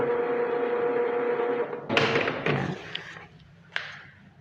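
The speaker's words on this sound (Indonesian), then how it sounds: "tinggal kita tekan print, maka printer akan memproses percetakan" An office printer works through a print job with a steady whirring mechanical hum, then a few clunks and clicks as the page feeds and the machine winds down.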